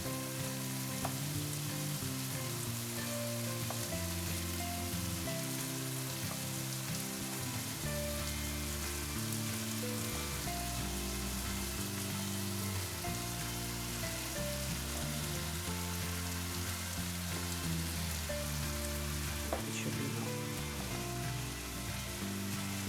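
Rice with mixed vegetables fries in a pan for kimchi fried rice, giving a soft, constant sizzle and crackle that runs throughout beneath steady background music, with no talking.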